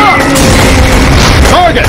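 Gunfire booms and crackles through a firefight in the Close Combat: First to Fight video game, loud and continuous, with shouted voices over it.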